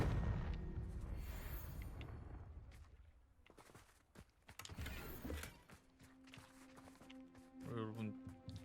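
Confringo fire spell blasting in Hogwarts Legacy: booming bursts and crackling impacts mixed with running footsteps and other game effects, with voices partly over it.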